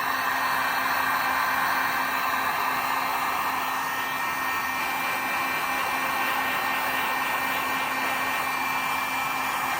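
A heat gun blows a steady, loud, hissing whoosh over the glue seam of a 2006-10 Dodge Charger headlight housing, holding at an unchanging level for the whole stretch with no talk.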